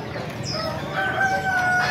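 Roosters crow at a busy market in Indonesia, with fighting cocks gathered together: a couple of close, drawn-out cock-a-doodle-doo calls ring over a background murmur of market noise.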